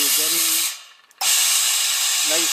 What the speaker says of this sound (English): nice steam, and you can iron for however long you want until the water runs out